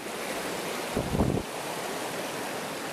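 Steady broadband rush of falling water at Ton Hin Lat / Ton Lam Phrao waterfall in Phang Nga, Thailand, continuous and fairly loud, with a brief thump of handling noise partway through.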